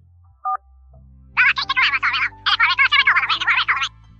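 A telephone being dialed, with a short single tone followed by a quick run of button beeps in two bursts, close and clear with no talking.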